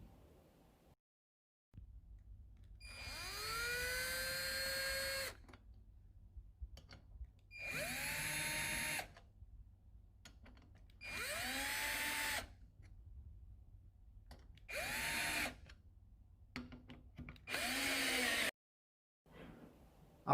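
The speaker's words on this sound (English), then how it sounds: "What is very important when tightening the screws is that you tighten them alternately." A power screwdriver drives screws into a push-in pipe connection in five separate bursts, each whirring up in pitch and stopping, with short quiet gaps between and a low hum underneath.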